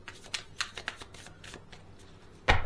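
Tarot cards are shuffled and handled up close, giving a series of quick papery riffles and flicks, then a louder burst of card noise near the end, with no voices.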